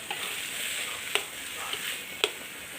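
Field rat meat is dry stir-fried in a pan for a spicy stir-fry, a soft steady hiss with a few sharp clicks as the spatula scrapes the pan.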